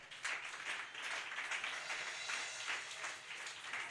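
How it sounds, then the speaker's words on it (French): A congregation applauding during a Sunday church service at Rehoboth Tabernacle: steady, fairly distant clapping from many hands that continues evenly throughout. "Acclamons très fort."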